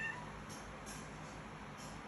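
A pet cat meows faintly and softly in a quiet room, a few brief calls barely rising above a low background hiss, with no one talking.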